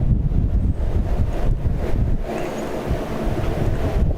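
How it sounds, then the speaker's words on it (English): A gust of wind roars across an outdoor soccer field during a match, a steady, loud, rumbling buffet of wind noise over the microphone that continues throughout. "there was a gust of wind as that ball came in"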